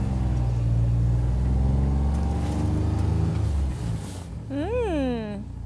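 A John Deere Gator in 2-wheel drive drags an ATV chisel plow, its engine droning in a steady, close, loud rumble that eases off near the end before a short rising-and-falling whine.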